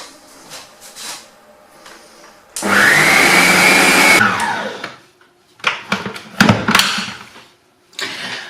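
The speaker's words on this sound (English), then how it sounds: "So, stand mixer if you've got one, it's safer." A stand mixer whisks Swiss roll mixture toward stiff peaks in one loud, steady whirring burst of under two seconds, set between quieter handling knocks and clatter.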